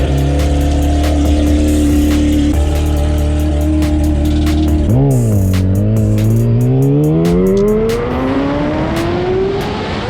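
Engine of a motorcycle being ridden, a steady mid-pitched drone that dips and then climbs as it revs and accelerates, loud and close with sharp ticking clicks on top.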